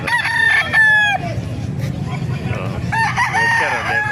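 Kelso gamefowl roosters crow close by, one full crow near the start and another toward the end, with clucking and a background murmur of other birds and people between them.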